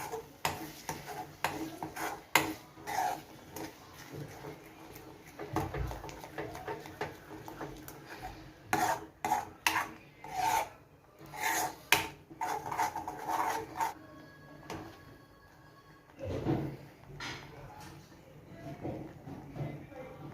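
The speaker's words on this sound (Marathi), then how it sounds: "आता आपण हे झाकण काढून हे सर्व बेसन एकदा मिक्स करून घेऊया" A spoon stirs cooked besan (gram flour) simmered in buttermilk in a pot, giving irregular clacks and scrapes against the metal that come in close, uneven bursts over low background noise.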